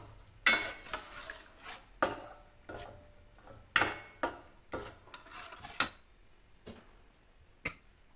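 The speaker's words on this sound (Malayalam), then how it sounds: "മിക്സ് ചെയ്ത് കൊടുക്കുക." Tamarind water being stirred into a spice mix in a pan for Kerala-style ginger curry, heard as a string of sharp spoon-on-pan clinks and scrapes at an uneven rhythm, close and fairly quiet, with no talking.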